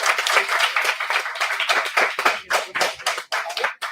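An audience at a college department event claps together, a close, lively patter of many hands with an uneven, pulsing rhythm that continues throughout and carries no speech.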